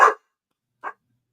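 A puppy gives two short, sharp barks close by, the second one quieter, with silence before and after.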